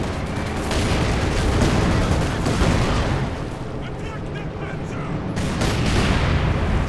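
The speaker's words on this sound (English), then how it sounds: "oh, light artillery barrage there" Light artillery barrage in the Company of Heroes 2 real-time strategy game, a dense, continuous rumble of explosions and gunfire that runs throughout at steady loudness, with a voice talking over the battle.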